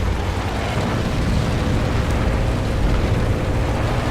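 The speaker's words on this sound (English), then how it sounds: "Enemy Artie takes a shot and gets a near miss." An enemy artillery shell lands as a near miss in a tank video game. A heavy, sustained roaring blast fills the whole stretch with dense rumbling noise and no clear pauses.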